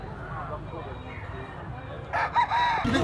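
Quiet outdoor background at a poultry market in Carbon, Cebu, then a yellow-legged stag rooster crows loudly and briefly near the end.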